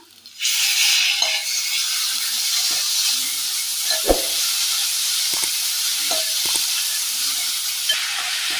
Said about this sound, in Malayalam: ഇനി ഇതിലേക്ക് തക്കാളി ചേർത്ത് കൊടുക്കാം.